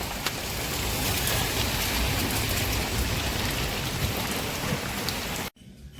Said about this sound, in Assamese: মস্ত ডাঙৰ বৰষুণ দিছে